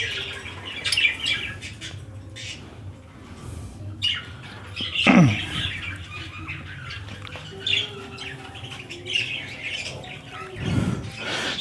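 Cockatiels squawk and chirp at a bird market, with loud close calls repeating irregularly over a busy background of other birds.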